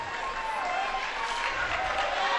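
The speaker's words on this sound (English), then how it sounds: "A huge crowd on hand." Large, boisterous crowd at an NAIA championship volleyball match, applauding and cheering in a continuous distant roar of clapping that fills the whole moment.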